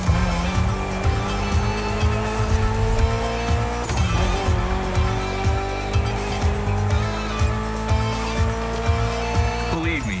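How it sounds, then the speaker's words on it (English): A Mitsubishi inline-four car with about 280 horsepower, being built as a gymkhana machine, drives in The Crew Motorfest with a steady engine drone and tire squeals throughout, while someone talks over it. "Mitsubishi gave us a nice inline four cylinder with already 280 horsepower"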